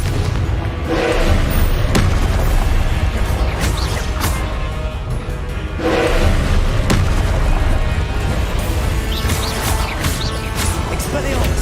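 Confringo spells fired in Hogwarts Legacy, repeated booming blasts at irregular intervals over a rumbling game soundtrack, several sharp bursts standing out loud and close.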